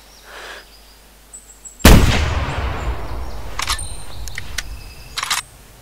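A single loud rifle shot booms in the theHunter video game during a moose hunt, with a sharp onset and a long rumbling decay, followed by a few softer clicks and clatters.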